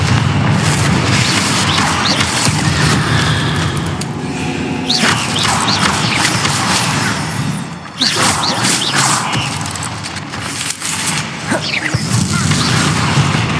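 Confringo explosion spells go off in Hogwarts Legacy combat, a loud, dense run of booms and crashing blasts over continuous game noise, with a brief lull partway through.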